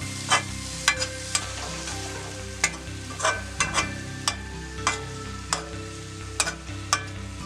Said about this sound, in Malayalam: ഇത് നന്നായിട്ടൊന്ന് മിക്സ് ചെയ്തിട്ട് കുറച്ച് ഇറങ്ങി തന്നെ വെക്കാം.